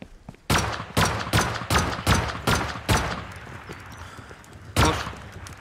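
Loud, sharp gunshots in a video game, six in a fast, uneven volley and then one more after a pause, each with a short, echoing tail.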